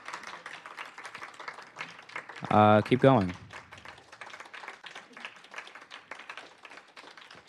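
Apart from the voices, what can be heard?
audience clapping for sponsors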